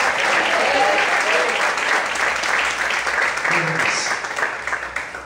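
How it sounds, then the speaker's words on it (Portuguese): Church congregation in Brasilândia, Brazil, applauding during a service, steady sustained applause filling the room, loud and continuous throughout with voices mixed in. "Você pode aplaudir Jesus mais uma vez?"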